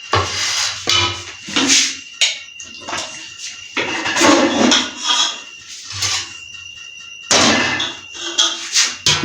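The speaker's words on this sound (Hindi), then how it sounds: "सबसे पहले हम चावल डालेंगे पतीले में।" Rice is added to a cooking pot for degi beef biryani, giving a series of irregular clattering, rattling bursts with short pauses between them.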